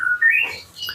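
Short, soft whistled notes from a white-rumped shama (murai batu) just out of its molt and lacking nutrition, a quick rising phrase heard close by and on its own.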